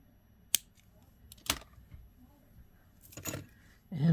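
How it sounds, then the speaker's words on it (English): Wire cutters snip the extra wire off a handmade beaded teardrop necklace with a few crisp, close clicks spaced about a second apart, while a faint voice murmurs near the end. "cut the extra wire off"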